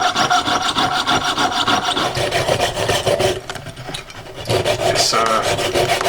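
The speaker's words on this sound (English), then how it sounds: "moving on to my saw blade now. Jeweler's fret saw." A worn jeweler's fret saw blade cuts through a vintage speedometer part with steady, rapid back-and-forth rasping strokes, close and loud throughout, easing briefly in the middle before the sawing resumes.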